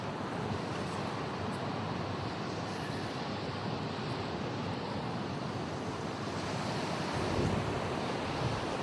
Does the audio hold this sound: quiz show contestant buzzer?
no